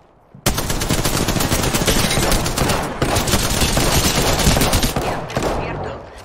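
Gunfire rings out in the video game Apex Legends: a loud, sustained automatic burst that rattles on for several seconds with brief breaks, close and dominant.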